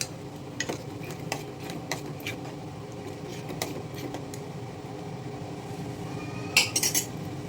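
A spoon stirs a sweet lentil dumpling mixture in a pot while prasadam is cooked for the Devi Navaratri offering. Soft scraping and light clinks of metal come steadily under a low kitchen hum, with a brighter clatter near the end.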